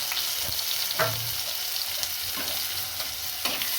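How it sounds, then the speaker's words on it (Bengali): Plenty of chopped onions fry in a pan over cumin and dried red chillies, a constant close sizzle broken by several scraping stirs of a spatula. "এটাতে পেঁয়াজটা ভাজতে টাইম লাগবে"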